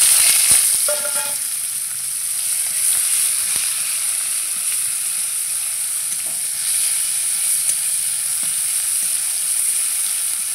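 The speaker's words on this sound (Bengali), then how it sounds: "পেঁয়াজ ভাজা হয়ে গেছে" Chopped onions frying in oil with a cumin tempering, a continuous loud sizzle with occasional clinks early on, no talking.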